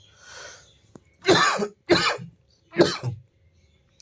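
Three sharp, loud coughs in quick succession, close up, after a brief faint breathy sound.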